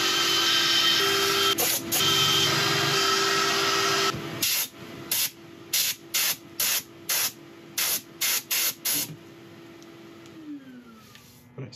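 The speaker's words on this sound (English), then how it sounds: "I shall sand this a little bit" Sanding a spinning Goldfield burl and resin piece on a woodturning lathe gives a steady, loud hiss that later breaks into a rapid series of short, evenly spaced bursts before a quieter tail.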